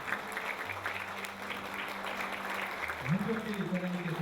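Audience applause at an honorary doctorate degree ceremony marking a university's 55th anniversary, steady clapping in a large hall with a voice over a public address speaking across it.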